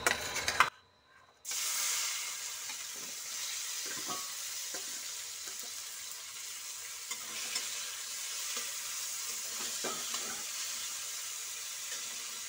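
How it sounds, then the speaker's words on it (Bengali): Chopped tomatoes hit hot oil in a pan with a sudden loud hiss after a brief pause, settling into a steady bright sizzle with occasional soft stirring knocks. "তো এই তেলটা গরম হওয়ার পর এই যে দেখতে পাচ্ছ টমেটোগুলো আমরা কুচি কুচি করে কেটে রেখেছি। তো এই টমেটোটা দিয়ে দেব।"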